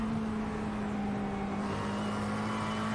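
A twin turbo V8 race car at the Miami Grand Prix accelerates and downshifts, giving a steady loud engine whir with a sustained tonal drone and a shift in pitch late in the run.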